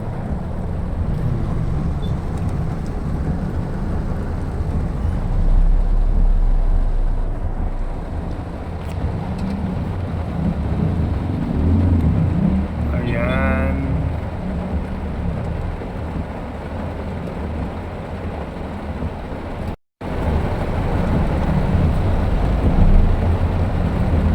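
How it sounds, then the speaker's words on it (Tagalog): Heavy rain and wind during a typhoon drum steadily around a moving vehicle on the way through flooded streets, a continuous loud wash with low rumble, broken by a brief dropout near the end. "Lumakas na naman ang ulan."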